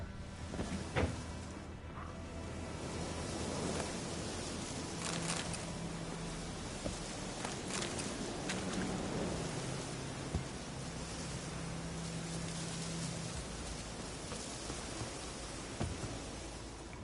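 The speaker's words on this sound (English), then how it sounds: "Winds howling." Wind howling across open country in The Witcher 3, a broad, steady rushing hiss with soft gusty swells and faint rustles, carrying on alone for a long stretch.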